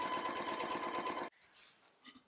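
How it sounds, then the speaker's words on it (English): A sewing machine stitches the inseam of jumpsuit pants in a fast, steady mechanical whir for over a second, then stops abruptly, leaving faint handling sounds. "continue to sew all the way down to the inseam"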